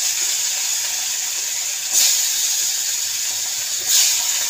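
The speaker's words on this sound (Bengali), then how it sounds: "তো তেলটা গরম হয়ে গেছে, মাছগুলো ছেড়ে দিলাম।" Fish frying in hot oil gives a loud, even hiss that swells twice in brief surges, with nothing else audible.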